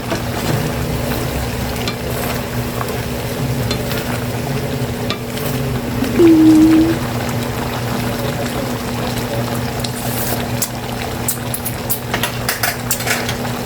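Potatoes and carrots stir-fried with oyster sauce in a home kitchen pan give a steady low sizzle with occasional stirring scrapes and clinks, close and continuous, with no talking.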